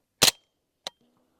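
A single suppressed 9mm shot from a Ronin Arms SD integrally suppressed bolt-action rifle, a sharp muffled crack, then a softer second click a moment later, with quiet between.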